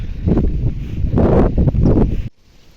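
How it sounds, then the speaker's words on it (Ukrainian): Strong wind buffets the microphone in loud gusty rumbles over a village vegetable garden, dropping abruptly to a quieter hiss near the end. "Ох і вітер."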